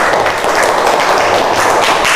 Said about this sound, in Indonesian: tepuk tangan buat Mbak Rere